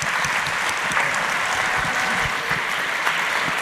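An audience applauding competitors at an entrepreneurship competition launch event, dense steady clapping from a large hall crowd, sustained and fairly loud throughout with no talk over it.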